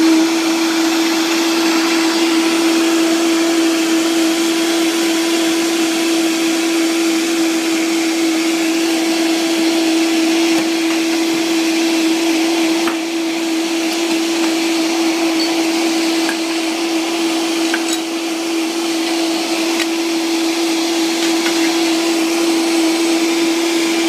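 Blender grinding kale into a vegan smoothie, a loud, steady motor roar with a constant whine that runs unbroken for the whole stretch, with no talking.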